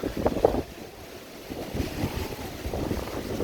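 Gusting wind buffets the microphone outdoors, a rough rumbling roar that swells and fades, with faint background noise.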